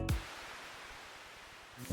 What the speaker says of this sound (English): All that's left to hear really is the noise, which sounds like this.